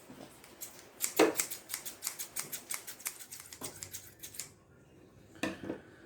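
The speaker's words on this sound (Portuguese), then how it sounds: "Depois de riscado todo o molde para o tecido, nós vamos cortar." Scissors cutting fabric for a rag doll pattern, a close series of rhythmic crisp snips in quick succession, then a pause and a few more cuts, with no voices.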